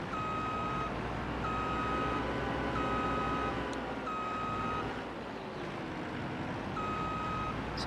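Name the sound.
grape harvester reverse beeper in Farming Simulator 22 video game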